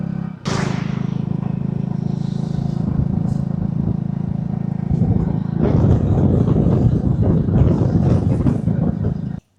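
A motorcycle rides along the Bharatmala highway toward Poogal in border Rajasthan, its engine a loud, steady, close drone with wind rush and a rougher stretch partway through.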